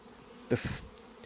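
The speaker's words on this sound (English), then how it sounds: "my bees have been bringing in a lot of nectar, so I started putting on my honey supers" Honey bees at a hive buzz faintly, with one brief closer drone swelling up and fading away over a quiet background, no voices present.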